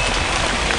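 An animated lava rain effect pours down as a dense, steady hiss of falling drops, loud and unbroken through the short moment.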